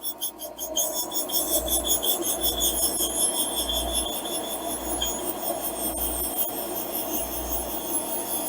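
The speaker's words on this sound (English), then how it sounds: "We just drag the valve back towards the stone here." A Toyota Starlet valve is pressed against a turning grinding stone with fluid, giving a steady raspy grinding whir with rhythmic pulsing swells, close and moderately quiet, with no talking.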